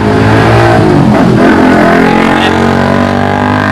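A motorcycle engine roars loudly past on a busy roadside street lined with food stalls, a short close pass with rising and falling engine noise and no talking.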